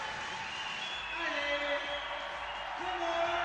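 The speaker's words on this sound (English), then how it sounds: "You see the crowd clapping" A crowd claps at a bouldering World Cup competition in Navi Mumbai, a steady wash of applause under a commentator's voice.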